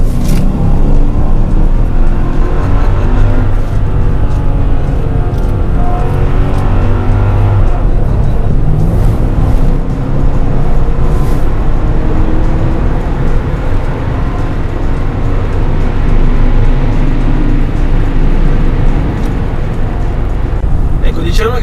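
A 475 hp older Mercedes AMG E-Class engine pulls hard on a straight toward the rev limiter, making a loud, continuous deep roar and rumble from inside the car.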